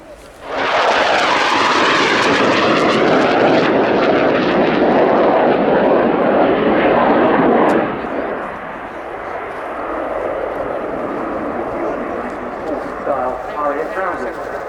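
A Eurofighter Typhoon at the Royal International Air Tattoo makes a final low pass before braking to land, its jet roar loud and broad for several seconds, then easing to a steadier, lower rumble as it passes.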